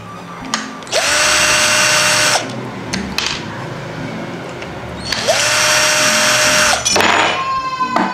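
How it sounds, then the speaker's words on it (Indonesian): Electric screwdriver working the screws on a Cosmos fan motor, two long high whirring runs, each with a rising start and an abrupt stop, close and loud with small clicks and handling noises between them. "sebenarnya kalian bisa pakai obeng listrik ya"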